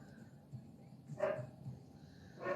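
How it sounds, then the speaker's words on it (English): Dogs bark indoors in a few short bursts, one around the middle and another near the end, heard over a quiet room with no one talking. "my dogs are going crazy."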